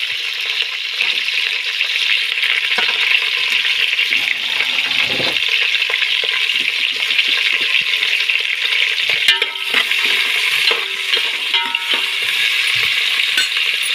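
Green chillies and onions fry in hot oil on a stove, a steady bright sizzle holding throughout with a few soft stirring clicks near the middle, close and alone.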